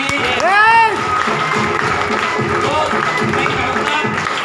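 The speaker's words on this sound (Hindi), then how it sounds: "एक बार तालियां हो सकती है अंकल के लिए" An audience claps for an uncle at a gathering. Scattered clapping and crowd noise sit under excited voices, with one rising whoop near the start.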